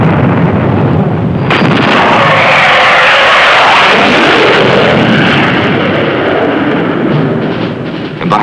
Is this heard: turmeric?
no